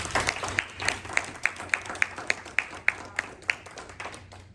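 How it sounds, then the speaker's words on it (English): A small audience at a town council district candidate forum clapping, sparse and fairly faint, with a handful of distinct, regularly spaced claps standing out over a thin patter. "So if we had a larger crowd, I would ask for a bigger round of applause"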